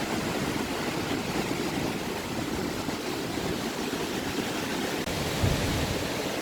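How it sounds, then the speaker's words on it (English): Rushing river water in Kings Canyon, a loud, steady broadband roar of fast-flowing current close by, continuous and unbroken with no talking. "Can you hear the rush of that water?"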